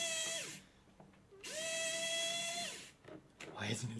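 A handheld power drill driving a screw whirs up in two bursts, the first short and the second longer and steady, ending in a brief loaded grind, close by in a workshop during a livestream.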